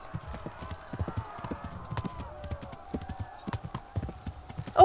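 Rhythmic hoofbeats of a galloping horse with an occasional whinny in the video game Kingdom Come: Deliverance, moderately loud and steady, with faint background sounds.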